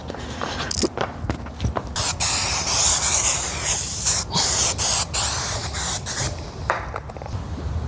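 Adhesive sprayed in bursts while a Mexican blanket headliner is fitted in a Ford Ranger, loud close hissing spray repeating with short gaps and small rubbing and handling sounds between, no talking.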